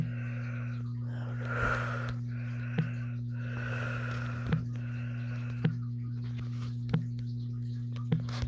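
A frightened creature character in a horror game breathes heavily in repeated wheezy breaths over a steady low hum, with faint regular ticks.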